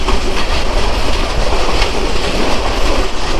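The Mohanagar Drutojan Express rushes past close by during a crossing, its wheels clattering rhythmically on the rails under a steady, loud roar that fills the whole stretch.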